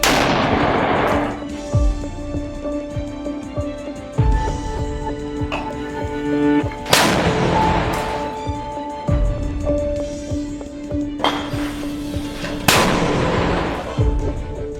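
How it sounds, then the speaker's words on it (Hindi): Rockets fired one after another from a launcher by fighters in a combat zone: several loud, sharp launch blasts with roaring trails, spaced a few seconds apart and repeating across the whole stretch. "एक लड़ाका लॉन्चर में रॉकेट भरकर उन्हें फायर करने लगता है"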